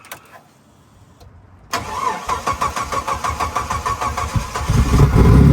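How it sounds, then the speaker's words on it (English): A homemade rock crawler's engine cranks briefly after a quiet start, then fires up and settles into a loud, rhythmic idle that swells toward the end, with no voices. "You hit the button, it fires right up."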